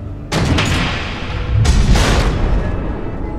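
Missiles detonate in Batman Telltale, two heavy booming explosions a little over a second apart, each a loud burst trailing into a long rumbling roar.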